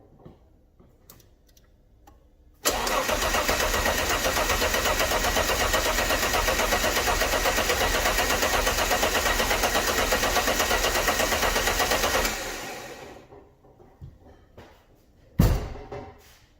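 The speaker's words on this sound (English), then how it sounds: "let's try and start it." An Alfa Romeo GTV V6, abandoned for years and just repaired, cranks briefly and fires up. It settles into a steady, loud running note for about ten seconds, then cuts off, followed by quiet clicks and a short final burst.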